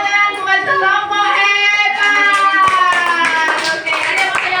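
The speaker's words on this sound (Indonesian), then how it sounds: "Tepuk tangan buat kelompok" Schoolchildren in a classroom clap for a group of classmates, a few sharp hand claps woven into a loud sing-song chant of young voices close by.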